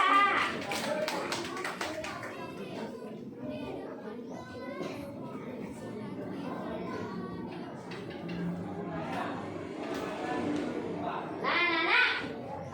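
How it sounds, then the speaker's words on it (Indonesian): Schoolchildren in a classroom clap for a classmate, a patter of small hands mixed with a teacher's talk and children's chatter throughout, swelling to a brief louder burst near the end. "kasih tepuk tangan untuk Pragia"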